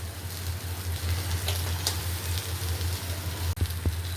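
Potatoes and onions sizzling steadily in hot oil for khichuri, a dense continuous frying hiss close by with a low hum beneath and a few faint clinks near the end.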